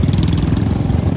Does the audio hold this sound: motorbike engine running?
yes